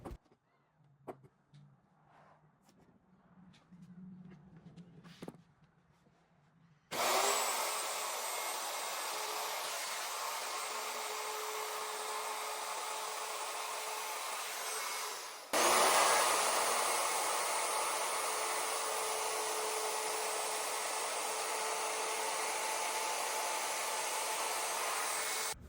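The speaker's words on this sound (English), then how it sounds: "For the legs, I routed all of these edges, both front and back side." A power router roars steadily while shaping the edges of wooden legs for a mid-century dresser, starting abruptly after a few quiet knocks and clicks, with a brief shift in pitch partway through.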